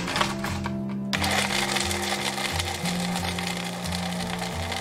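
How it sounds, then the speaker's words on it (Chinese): A high-speed blender grinds dried seafood into powder, whirring loudly and steadily with a rough, gritty roar. The pitch of the motor steps up and down through the run. "我们先打海鲜干后，把它打成粉。"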